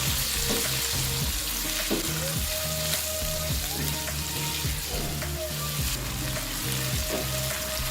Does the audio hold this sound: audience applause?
no